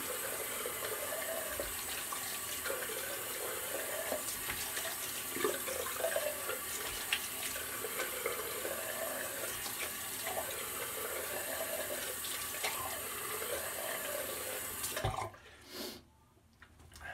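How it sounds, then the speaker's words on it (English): A tap runs steadily while shaving lather is rinsed off the face after a wet shave with peppermint and grapefruit products, a continuous close splashing wash that cuts off abruptly near the end. "So we'll quickly rinse off and go into the post."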